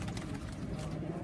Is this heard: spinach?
no